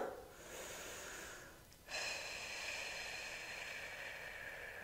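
A long, steady exhale of breath during a seated full-body chair stretching session, a soft airy hiss that dips briefly and then continues evenly under faint background noise, with no talking.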